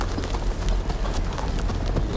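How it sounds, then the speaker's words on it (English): Steady, dense clip-clop of many horse hooves in the video game Game of Thrones: A Telltale Series, loud and continuous like a herd trotting close by. "look at this big crowd of horses"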